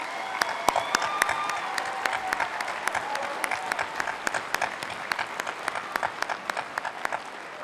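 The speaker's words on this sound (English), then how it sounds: "So let's all give a round of applause to all the families and friends of our graduates" Sustained applause from a commencement audience at the Oregon Institute of Technology 2019 ceremony in Klamath Falls, honouring graduates' families and friends; dense, steady clapping from a large crowd with sharp individual claps standing out throughout.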